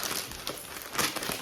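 Paper wrapping crinkling and rustling as a styling-service clothing box is unpacked, soft and close with a few sharper crumples.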